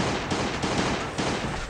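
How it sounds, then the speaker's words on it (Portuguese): Gunfire in the video game Last Day on Earth: a dense, steady run of loud gunshots with repeated bursts, dominating throughout with no talk over it. "Esses aqui tem que ser no tiro."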